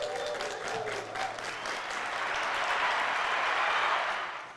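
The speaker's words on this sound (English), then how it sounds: "Let's give a round of applause to that." An audience at a live martial arts school event applauds steadily for several seconds, a dense, even wash of clapping that swells slightly toward the end before fading.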